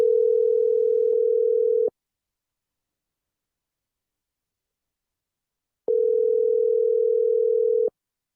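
Two steady telephone dial tones, each about two seconds long, separated by several seconds of silence, clear and close with no voices.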